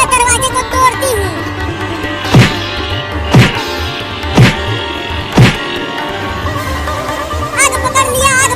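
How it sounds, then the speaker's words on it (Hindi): Four heavy thuds strike at steady one-second intervals, like something being forced against a door, over constant background noise and chatter. "रुको, मैं दरवाजे को तोड़ती हूँ।"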